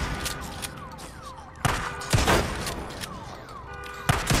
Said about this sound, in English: Shotgun putting in work